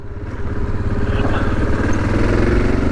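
A 1986 Yamaha XT 600 single-cylinder dual-sport motorcycle idling, a steady loud low thumping beat heard close up with no talk.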